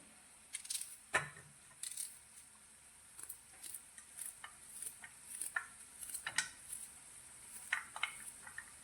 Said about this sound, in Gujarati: આ ડુંગળીને આપણે એકદમ ઝીણી ઝીણી કટ કરી લઈશું